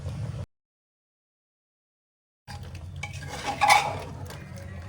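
A spoon mixes chicken with chilli powder and turmeric in a pot, clinking and scraping against the metal after a brief gap of silence, close and moderately loud.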